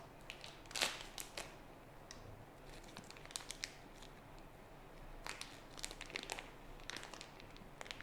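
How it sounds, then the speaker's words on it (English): Scissors cut open plastic pasta packaging, giving faint, close crinkling and snipping bursts scattered across a quiet background. "Just cut the plastic open."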